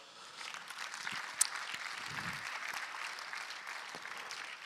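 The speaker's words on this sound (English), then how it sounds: "Give yourselves a round of applause." Audience applause closing a food systems challenge pitch day, a sustained wash of clapping from a room full of people, moderately faint and even, with one sharp spike early on.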